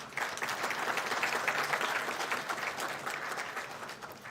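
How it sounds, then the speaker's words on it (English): Graduation ceremony audience claps for the graduating international students, steady crowd applause at moderate distance, fairly even and continuous with no speech. "Ladies and gentlemen, a round of early applause for the stars of today's show"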